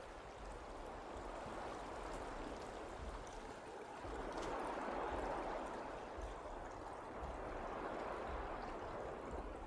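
Water in the Starfield video game, a steady, faint rushing wash like a flowing stream that carries on evenly throughout without any talk.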